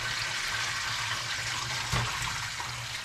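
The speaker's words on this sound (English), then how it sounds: "So I'm now draining off all that water." Water poured off freshly chopped new potatoes during home canning, a steady rushing drain of liquid heard alone for a few seconds, with a slight surge partway through.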